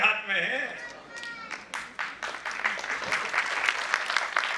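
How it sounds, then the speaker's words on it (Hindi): An audience claps at a motivational speech; a voice briefly speaks at the start, then scattered claps build into steady, dense applause that continues to the end. "देखो, ताली अगर बजाई तो ढंग से बजाना।"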